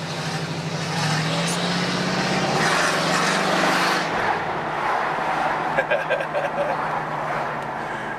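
A 1975 Oldsmobile Cutlass Supreme Hurst Olds W-25 cruises along the road, its engine note rising steadily and then settling into a sustained drone, close and fairly loud, while people talk over it.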